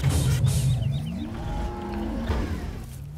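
Cattle on a cow farm in a farming video game give a drawn-out low moo, followed by a second shorter bellow, over a steady outdoor ambient background.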